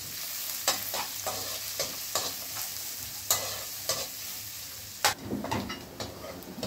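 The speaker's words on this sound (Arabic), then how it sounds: "البصل هيتحمر" Three thinly sliced onions frying in a pan for Egyptian bessara, with a continuous sizzle and repeated sharp scrapes and clacks of a spoon stirring them, close and loud, no voices.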